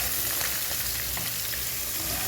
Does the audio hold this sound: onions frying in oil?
yes